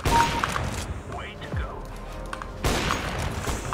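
Video game gunfire crackles in short bursts with thumping impacts, loud at the start and again near the end, while a player talks over the action.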